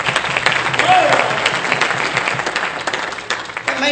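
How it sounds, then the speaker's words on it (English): A church congregation claps in praise during a Sunday morning worship service, dense and steady clapping from many hands filling the room for several seconds before fading slightly. "give God a hand clap of praise."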